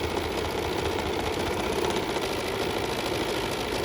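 Stitching a pocket on a Pocket Peeker, a sewing machine hums and chatters in a steady, even run at close range, with no voices.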